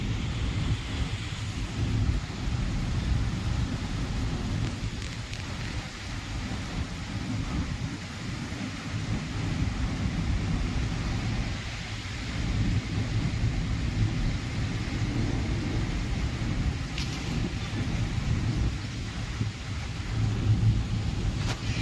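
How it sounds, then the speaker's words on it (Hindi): A thunderstorm approaches outside a house in India: steady rain and gusting wind with low, rolling rumbles spread across a long stretch, fairly faint and with no one speaking. "गाइस बाहर आ रहा है तूफान।"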